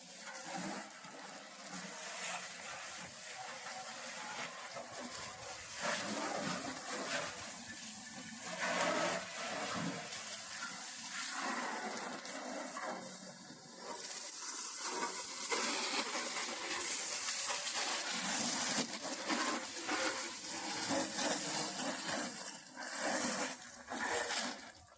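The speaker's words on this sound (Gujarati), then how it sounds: "તો હવે હું મોટર ચાલુ કરીને ધોવા મળું" A motor pump sprays water to wash a Massey tractor in a village. It gives a continuous hissing, splashing spray for about 25 seconds, rising and falling as the jet moves over the machine.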